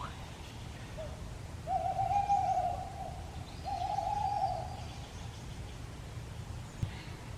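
Two owls hoot at a campsite at night, giving two long, soft hoots a couple of seconds apart, somewhat distant over quiet background hiss.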